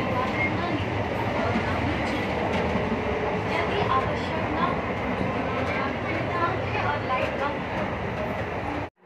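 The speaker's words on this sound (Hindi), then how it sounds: "बैठे हुए ट्रेन पे देख सकते हो, ट्रेन चल रही है" A moving passenger train on an Indian railway route, heard from inside a crowded carriage as a steady, loud rumble with faint rhythmic clatter, voices murmuring throughout.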